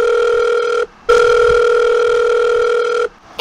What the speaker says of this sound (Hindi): ए वीडियो के बीच में किसका फोन आ गया क्या?